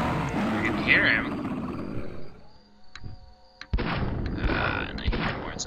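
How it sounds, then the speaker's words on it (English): Guttural zombie growls rise in Castle Miner Z, a rough drawn-out roar that fades to quiet before another loud burst of snarling cuts in, with talking heard alongside. "And I hear more zombies."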